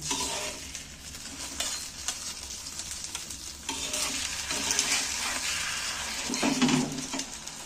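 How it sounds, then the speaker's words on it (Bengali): An egg roll sizzles and fries in a pan after being flipped, with a constant crackling hiss and occasional scraping of a utensil against the pan throughout. "এইবার আমি ডিমটাকে রোলের মতো করে উল্টিয়ে দিচ্ছি।"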